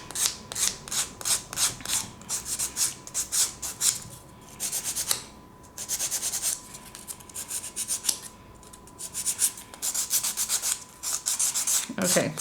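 A nail file rasps back and forth over acrylic nails to shorten them, rhythmic scratchy strokes in quick bursts with short pauses between sets, close and fairly quiet.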